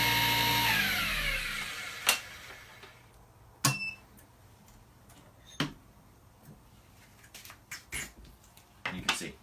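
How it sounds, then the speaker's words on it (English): A small dental mixer starts with a brief whirring spin, then stops; a few sharp clicks and taps of handling the machine and mouthpiece material follow in a quiet room. "Place that in the little mixer and start."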